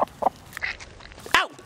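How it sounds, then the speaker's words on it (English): A chicken close by, giving a quick run of short, sharp clucks and squawks, ending on one louder rising squawk. "No chicken, bad chicken."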